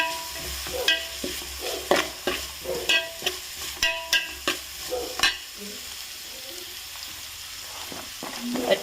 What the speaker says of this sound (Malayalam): ഇനി ഇതിലേക്ക് നമ്മളെ തേങ്ങ ഇട്ട് കൊടുക്കാം